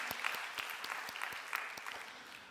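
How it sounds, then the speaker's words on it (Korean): A church congregation gives brief applause after a sermon passage, a fairly quiet, dense patter of many hands with a few sharper distinct claps, heard on its own without talk. "하나님께 박수로 영광 올려드리겠습니다"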